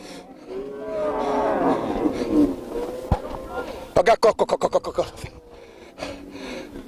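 Cattle moo in a long, drawn-out low call, followed by a rapid series of short, sharp pulsed bursts; people talk loudly over and around the animals throughout.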